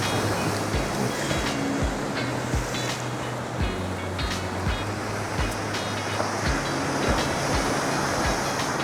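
Rough ocean surf near Te Rewa Rewa Bridge, New Plymouth, rolling in against rocks and washing back, a steady loud roar of broken water with repeated low surges throughout.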